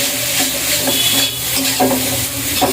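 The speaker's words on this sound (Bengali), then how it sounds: "একটু ভালোভাবে নাড়িয়ে নিব" Noodles stirred in a frying pan, sizzling under scraping and clinking of a utensil against the pan, close and fairly loud with no talk.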